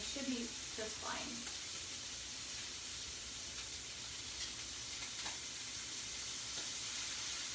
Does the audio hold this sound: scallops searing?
yes